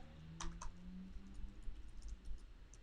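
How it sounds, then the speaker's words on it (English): Typing on a Mac laptop's built-in keyboard, a quiet run of light, irregular key clicks close by with a soft low hum underneath and no talking. "Right now I'm using my Mac keyboard just on the laptop."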